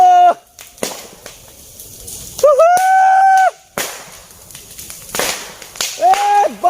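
Several sharp cracking bangs go off in a row, loud and near, between whistling tones and outdoor noise.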